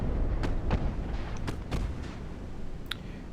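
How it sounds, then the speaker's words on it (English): Naval guns fire a broadside in the warship game Ultimate Admiral: Dreadnoughts, a rapid run of several booming shots over a rumbling battle background, fairly loud and evenly spaced. "Get all of our guns to bear on him now that we're close."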